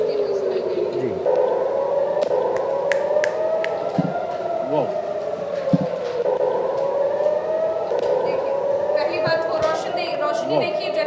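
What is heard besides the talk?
sirens wailing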